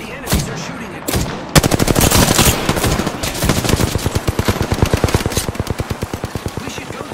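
Enemy gunfire in a shooter video game: loud, rapid automatic bursts rattle on for several seconds after a couple of short opening shots, fading slightly toward the end with no voices.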